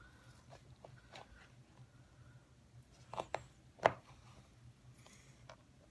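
Knife cutting tortilla strips for soup on a board, a few scattered light chops with two sharper knocks near the middle, quiet kitchen background.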